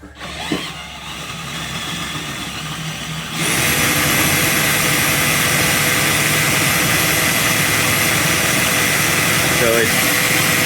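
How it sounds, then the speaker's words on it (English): A DeWalt cordless drill drives a high-ratio trailer gearbox, running at a steady loud whine that jumps up sharply a few seconds in and then holds a constant pitch to the end, with a little talk under it. "The drill is obviously loud, but it's got a hella ratio"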